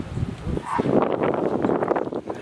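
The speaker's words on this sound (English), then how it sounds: "It's windy, I'm sorry." Wind gusts buffet the microphone in the Montreal Botanical Garden, a loud, rumbling rush that swells and churns with a faint rustle of plants.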